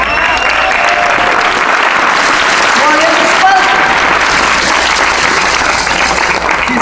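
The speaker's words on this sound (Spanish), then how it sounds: "Un aplauso." An audience applauds loudly and continuously, with dense clapping filling the whole stretch and a few voices calling out within it.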